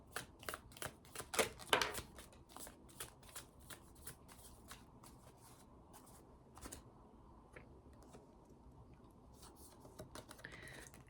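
Tarot cards handled and laid out on a surface: a quick run of crisp card flicks and snaps up front, then softer intermittent slides and taps, close and quiet, with no one speaking.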